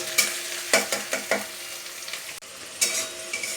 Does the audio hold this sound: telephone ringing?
no